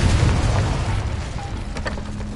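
A Confringo fire spell bursts in a tomb in Hogwarts Legacy, a loud low-heavy explosive boom that decays over a couple of seconds with faint rumbling debris after.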